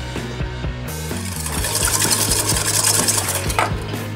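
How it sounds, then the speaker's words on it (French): Egg yolks being mixed with passion fruit pulp and sugar for a passion fruit soufflé: a steady whisking, scraping rustle in a bowl, held under continuous background music. "Tu mélanges ensuite les jaunes d'œufs avec la pulpe de fruits de passion et un quart du sucre."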